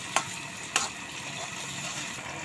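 Onions fry quietly in a pan with a soft, steady sizzle, broken by two brief sharp clinks near the start.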